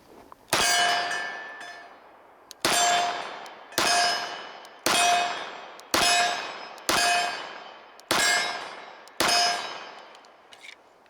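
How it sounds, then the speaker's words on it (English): A SIG Sauer Spartan II Carry 1911 pistol fires its first rounds: eight sharp, loud reports with ringing metallic decays, spaced about a second apart, no talk. "first rounds to the SIG Sauer Spartan 2 carry here"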